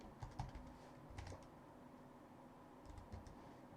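Keys on a computer keyboard click in short, faint bursts of typing with brief gaps between them, heard alone in a quiet room.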